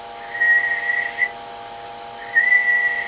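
A Maco 300 with seven 8950 tubes carries whistling into a radio microphone: two clear, steady whistle tones with a pause between them, over a low background hiss.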